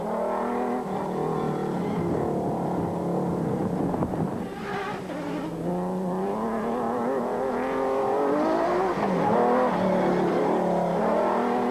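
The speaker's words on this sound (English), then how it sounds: "set off in pursuit of Schroeder and Peckham in the Class E Ford Racing Ranger" Class E Ford Ranger racing truck in a 2003 desert rally race, its engine roaring steadily and rising and falling through gear changes, loud and continuous throughout with no talk.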